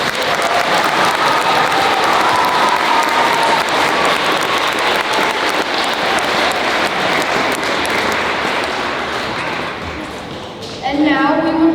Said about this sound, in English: Let's give them our best round of applause.